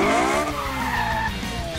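A cartoon car skids with a sustained tire squeal and engine whine, then pulls away, the pitch sliding down over about two seconds at steady, close volume.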